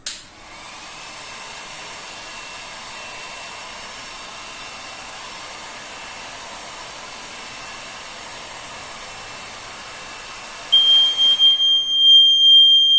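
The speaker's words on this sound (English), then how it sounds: "the alarm went off" A steady hairdryer-like hiss runs for about ten seconds, then a sharp, high electronic fire alarm tone begins beeping near the end.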